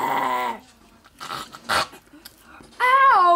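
A cartoon guard dog whimpering and growling in short tonal yelps and whines separated by brief pauses, loud and close, with cartoon voices and effects around it.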